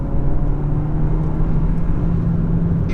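A 2018 VW Golf engine pulling under acceleration in sport mode, heard from the cabin as a loud, steady low drone with road rumble that holds throughout, no talking.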